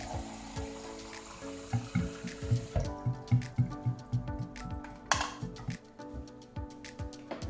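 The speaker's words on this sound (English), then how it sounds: "And fill the water tank with fresh water up." Tap water pours steadily into a Nespresso Inissia coffee machine's plastic water tank, with rhythmic sloshing and knocks as it fills, then a brief louder gush near the end.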